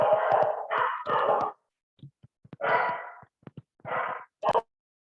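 A dog barks in bursts, several close, fairly loud barks grouped in pairs and threes with pauses between, alone without talk.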